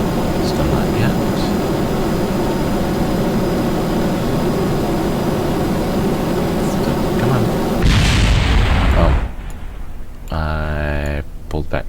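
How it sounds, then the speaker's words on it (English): A rocket engine in Kerbal Space Program roars loudly and steadily, then cuts out in an abrupt burst as it blows up, leaving quieter game tones and a brief beeping sound afterward. "the engine blew up"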